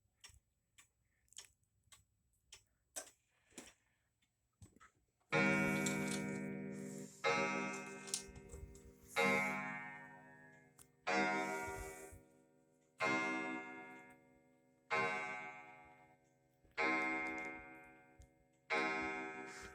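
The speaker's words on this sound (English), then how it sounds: "It's actually a very loud clock." A loud 1930s Junghans art deco box clock in a small room: light, sharp ticks at first, then a series of strong ringing strikes about every two seconds, each decaying slowly, heard alone.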